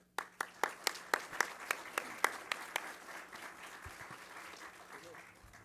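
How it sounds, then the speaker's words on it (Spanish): Sparse, evenly spaced claps from a small audience at a book presentation in a legislative building, about a dozen sharp hits fading into quiet murmur. "Les pido un aplauso, por favor."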